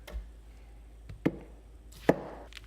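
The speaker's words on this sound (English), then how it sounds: "the rest of these tomatoes, these are going at the bottom, so I'll cut them a little bit smaller" A knife chops tomatoes into small pieces for a scratch-made turkey chili. Three or four sharp, separate cuts land against a board, close and distinct over a quiet background, with no talking.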